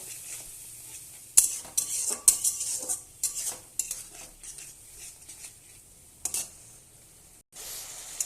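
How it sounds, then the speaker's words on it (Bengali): Spice masala of turmeric, coriander-cumin and dried chili powder being stirred and fried in a pan, a soft sizzle broken by repeated scraping clinks of a spatula on metal, close and intermittent. "এবার আমি ভালোভাবে এটাকে মশলাটাকে কষিয়ে নেব।"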